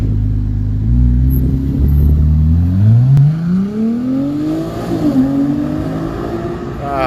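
Ferrari 296 GTB pulling away outdoors, engine note rising through the gears with a sweeping climb, a brief dip at each shift, and a steady moderate rumble throughout.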